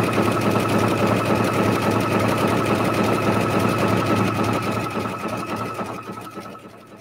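A sewing machine fitted with a circular attachment stitches a leaf design in a steady, rapid, loud mechanical whir that runs continuously, then slows and fades over the last couple of seconds.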